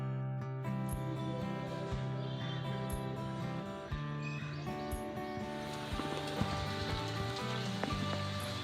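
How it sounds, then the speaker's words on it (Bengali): Light rain falls steadily on a rooftop garden under a cloudy sky, a soft continuous patter with scattered drops and faint birdsong, a low hum underneath and no talking. "আর এই যে বলতে বলতে বৃষ্টি শুরু হয়ে গেছে"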